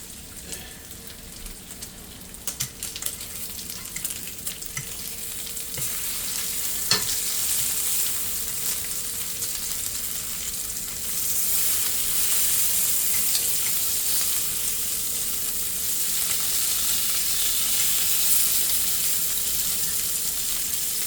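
Cheap bacon fries in a pan with a continuous crackling sizzle that swells louder about halfway through, with an occasional sharp pop or tap against the pan. No one speaks.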